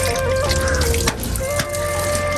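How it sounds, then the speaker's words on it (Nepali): Running water splashes loudly and close up as feet are washed outdoors along a rural route, a continuous gushing stream with a couple of brief dips where the flow is interrupted. "म चाहिँ यसो खुट्टा सुट्टा धुन्छु गाइज खुट्टा फोहोर भएको"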